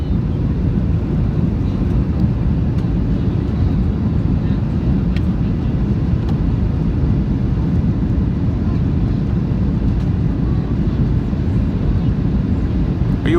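Steady, loud cabin roar inside a Ryanair Boeing 737-8AS with winglets on landing approach into London Stansted, a constant low engine and airflow rumble with faint clicks and no letup.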